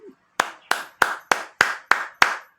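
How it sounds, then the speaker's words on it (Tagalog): A lone person claps seven times at a steady pace, each crisp close-up clap decaying quickly, preceded by a faint short sound before the first clap. "Palakpak naman yan."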